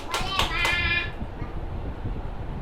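Young children in a classroom fruit-naming lesson clap their hands in a quick burst of sharp claps, with children's voices chattering throughout.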